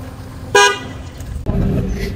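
Car horns honk in a full traffic jam, with one sharp toot followed by a louder, longer blare over the rumble of road traffic.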